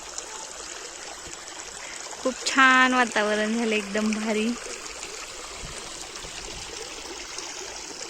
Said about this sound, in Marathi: मस्त पाण्याचा आवाज येतोय